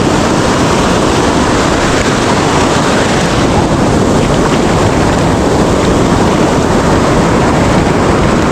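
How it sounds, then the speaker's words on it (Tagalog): Large ocean waves roll onto the seashore in a dense, loud and unbroken roar, heavily buffeted by wind on the microphone, with no talking. "Malaki ang alon sa tabing dagat"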